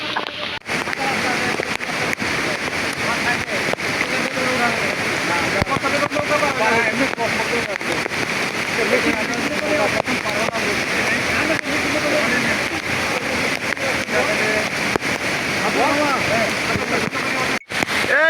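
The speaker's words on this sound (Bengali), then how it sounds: "প্রচন্ড বৃষ্টিতে দেখুন পাহাড়ি ঢল নেমে গেছে।" A mountain flash flood rushes down a hillside stream and waterfall during heavy rain at Debotakhum. The roar of water is loud and continuous, with voices talking over it.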